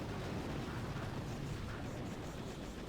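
Artillery strikes from the video game Boom Beach form a continuous, dense rumble of overlapping explosions, loud and steady throughout with no clear gaps.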